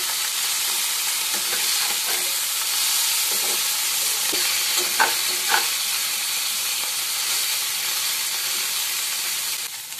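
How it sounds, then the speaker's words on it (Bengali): Small mourola fish fry in hot oil in a pan as they are turned over; a dense, even sizzle and hiss runs close throughout, broken by a few sharp spatters and utensil taps near the middle. "ভাজা হয়ে গেছে, আমি উল্টে নিচ্ছি মাছগুলো।"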